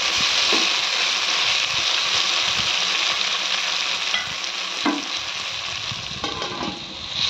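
Tomatoes for egg biryani frying in a pan over a medium flame, giving a steady, loud sizzle throughout, with a few soft stirring scrapes and no talking.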